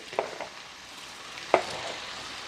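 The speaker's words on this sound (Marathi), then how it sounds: "आता मी पुन्हा सगळं व्यवस्थित मिक्स करून घेते" Soaked rice being gently mixed into a vegetable pulao in a pan over a medium flame: a soft, low sizzle with a few sharp scraping stirs of a spoon, close and otherwise quiet.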